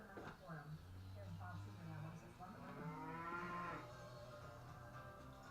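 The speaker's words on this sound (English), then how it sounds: "Cows haven't eaten yet, so they're a little grumpy." Cows low in long, drawn-out moos at close range, several calls overlapping in a grumbling, restless chorus while animals wait unfed, with a voice talking alongside.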